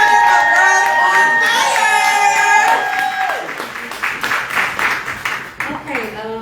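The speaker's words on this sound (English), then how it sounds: "give them a round of applause for the founder of Girls on" Audience claps and cheers at an anniversary celebration, crowd noise with clapping building after a stretch of voices, with people talking over it.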